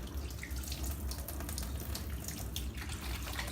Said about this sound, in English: So what I'm going to do now, well, first wash my hands